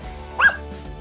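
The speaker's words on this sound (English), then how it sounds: "That's your new doggy!" A single short dog bark, close and moderately loud, over faint background noise in a toy house-building setting.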